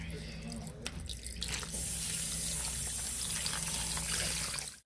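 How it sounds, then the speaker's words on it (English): Bleach splashes and pours over a Beanie Boo plush toy, a steady close liquid stream like a running tap that fills most of the clip before cutting off abruptly. "we're just gonna dump this out and put straight bleach on her"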